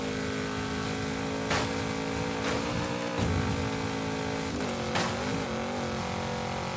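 Race car engine in Forza Horizon 5 driven with a Logitech G920 wheel on Xbox Series S, droning steadily at high revs with several brief pitch dips and swells from gear shifts, loud and continuous with no talk.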